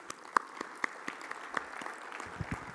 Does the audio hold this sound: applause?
yes